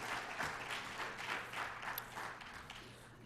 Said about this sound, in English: Could we please hear a great round of applause for Chris Clifford